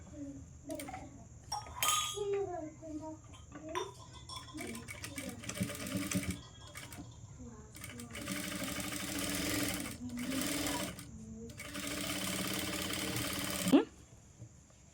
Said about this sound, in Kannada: ಡಬಲ್ ಫೋಲ್ಡಾಗಿ ಸ್ಟಿಚ್ ಮಾಡಿಕೊಂಡು ಪ್ಲ್ಯಾಕೆಟ್ನ ಮಾಡ್ತಾಯಿದ್ದೀನಿ